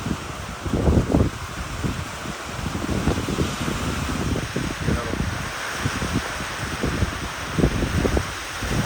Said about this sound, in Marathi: खूप जोरात वारं आहे, पूर्ण वादळ आले.